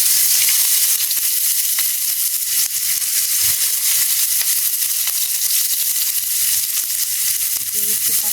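Onion frying in hot oil with panch phoron and dried red chilli, a steady close sizzle and hiss running the whole time with a few faint stirring clicks.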